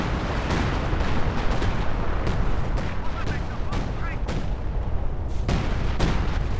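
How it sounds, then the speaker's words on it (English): Assault artillery in a Company of Heroes 2 2v2 match pounds away in a steady series of heavy, booming impacts about a second apart, over a constant roar of battle noise. "And here comes the assault artillery, rather."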